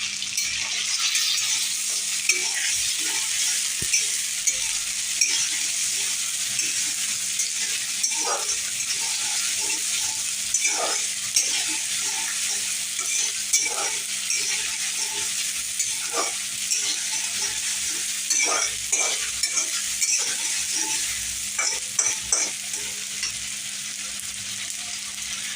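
Ginger and garlic paste frying in a pan for a chicken curry, with a steady loud sizzle and repeated scraping strokes of a spoon stirring through the paste, no talking.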